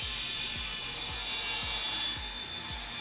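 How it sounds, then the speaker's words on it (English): A table saw cuts wood strips for concrete countertop molds, a steady high whine of blade through wood with rhythmic low thumps about every half second, alone and close. "It's best to use a table saw for this portion of the project."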